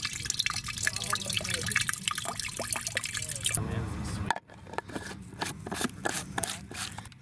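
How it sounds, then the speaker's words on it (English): Water dripping and trickling from a squeezed sponge scrubber on an off-grid shower, close and moderately quiet, a patter of drops followed by a splash, with a person talking throughout. "As you squeeze the sponge, water comes out."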